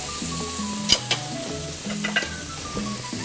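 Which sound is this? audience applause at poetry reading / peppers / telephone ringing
peppers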